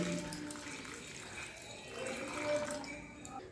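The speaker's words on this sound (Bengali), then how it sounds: "এবার এর মধ্যে কিছুটা উষ্ণ গরম দুধ ঢেলে দিচ্ছি।" Warm milk is poured into a bowl of fried paneer pieces, a soft continuous liquid trickle with faint kitchen background noise.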